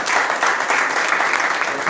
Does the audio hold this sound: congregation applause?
yes